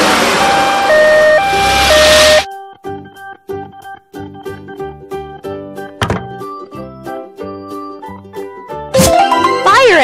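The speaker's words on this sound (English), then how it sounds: "Ambulance." A cartoon ambulance siren from a children's vehicle-learning animation wails loudly in stepped tones for a couple of seconds, then gives way to plinking music and soft thunks before a bright burst returns at the end.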